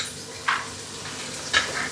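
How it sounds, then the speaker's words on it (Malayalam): Cashews frying in ghee in a pan give a low sizzle, with two brief scraping stirs of a spoon cutting through. "ഇപ്പോൾ വറുക്കാം."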